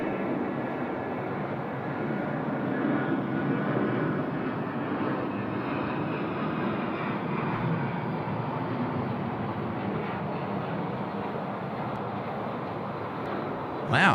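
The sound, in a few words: BAe 146 aircraft in dark livery at Sydney Airport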